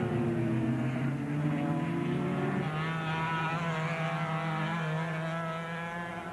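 500cc Grand Prix racing motorcycle at the 1995 Australian Grand Prix, its engine droning loudly and steadily as it rides past with shifting pitch. No talk is heard over it.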